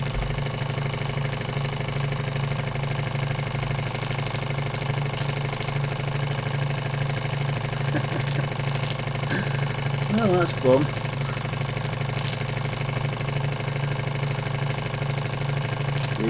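A Wilesco D16 model steam engine runs with a steady, even mechanical churn and hum at close range, unchanging throughout, with a short spoken comment partway through.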